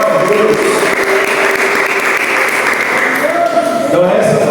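A church congregation at a Thursday service claps loudly and steadily, while a voice speaks over the applause toward the end.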